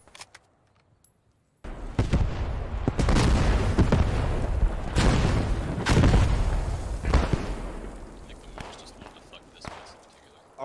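Mortar shells burst in the World War II shooter Post Scriptum: a loud, close explosion breaks in after a near-silent start, then a rolling series of heavy booms and crackling blasts with voices talking over them.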